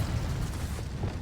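An Incendio fire spell cast in Hogwarts Legacy: a dense, rumbling whoosh of flame with a deep booming body, loud and sustained for about a second.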